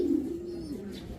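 A grizzle racing pigeon gives a soft, low cooing call, one short continuous coo close by with a slight drop in pitch, no talking over it.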